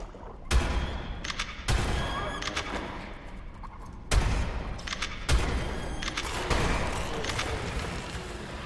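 Shotgun blasts from ARK Survival Ascended while clearing bats in a cave: four loud, booming shots spaced unevenly, each with a sharp attack and a rumbling tail, alongside softer game noise, with no talking.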